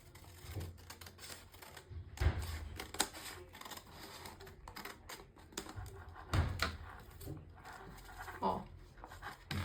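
Scissors cut along a line on a paper sewing pattern for a blouse, giving a series of crisp snips and paper rustles at an irregular pace, close and fairly quiet.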